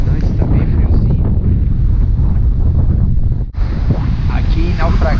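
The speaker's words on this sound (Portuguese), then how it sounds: "Está ventando bastante, está bem friozinho." Strong cold wind batters the microphone on the wild, forested coast of Naufragados in southern Florianópolis, a loud, constant roar with a brief drop near the end, and a voice speaks faintly underneath.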